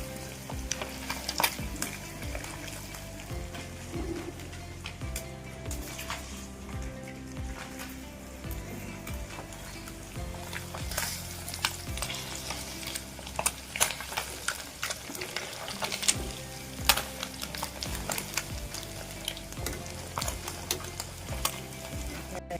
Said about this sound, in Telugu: ఇప్పుడు ఫ్రై చేస్తున్నాను.